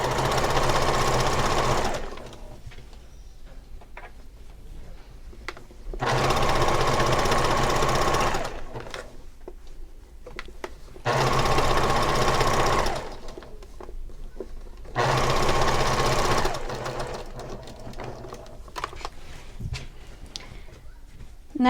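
A sewing machine runs in four long bursts with quiet gaps between them, stitching a pillow sham seam forward and back, close and steady.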